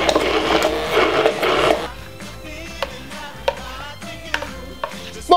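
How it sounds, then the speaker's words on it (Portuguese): A handheld immersion blender whirs loudly for just under two seconds blending a small batch of sauce, then stops, leaving quiet clicks and small knocks. "Eu fiz uma receita bem reduzida e eu vou bater aqui no mixer."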